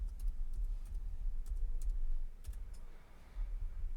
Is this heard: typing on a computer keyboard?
yes